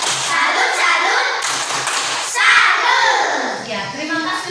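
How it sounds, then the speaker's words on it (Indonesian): Children in a classroom clap a rhythmic salute cheer for a group of classmates, bursts of hand claps mixed with their chanting voices, fairly loud and close. "tepuk salut untuk kelompok 4"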